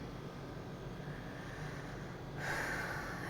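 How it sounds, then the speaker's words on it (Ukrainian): A tired woman gives a long breathy yawn, close and fairly quiet, its airy exhale swelling near the end over a low background hum. "Ой, пробачте, позіхаю, бо дуже втомилася але дуже задоволена."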